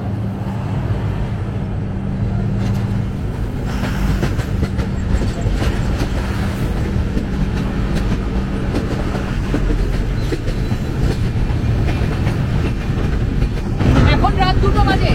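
Humsafar express train of Eastern Railway rolling along the rails near Malda Town, a steady loud clatter and rumble running continuously throughout, with a brief burst of brighter clanking near the end.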